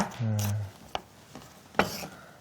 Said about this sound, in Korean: 새우볶음밥 야채가 이렇게 있는데 한번 썰어볼까요?